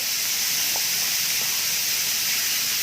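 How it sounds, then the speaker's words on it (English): About 300 grams of ground pork sizzles and hisses steadily as it is sautéed in a pan, a loud, even, continuous sizzle with no talking. "we're going to saute that up"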